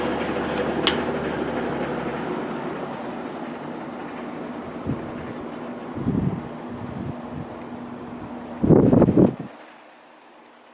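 An electric fan running on its low speed setting gives a steady, close whirring hum with a faint tonal drone. A few soft bumps are heard, then a louder rattling burst near the end before the sound cuts out.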